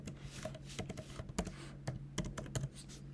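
A website address is typed on a computer keyboard, likely a Mac, in a run of close, crisp key clicks with uneven rhythm and a few heavier taps, alone without talk.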